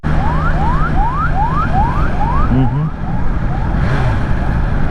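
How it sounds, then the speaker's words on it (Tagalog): An ambulance siren wails in repeated rising sweeps, steady and fairly close, over a constant low rumble of traffic on the road near the Asin Tunnels. "mukhang ambulansya yun."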